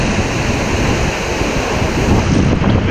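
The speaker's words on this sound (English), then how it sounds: "that is blasted by a waterfall" Seljalandsfoss waterfall in Iceland roars from very close on the trail behind the falls, a loud, steady, dense rush of falling water with wind buffeting the microphone throughout.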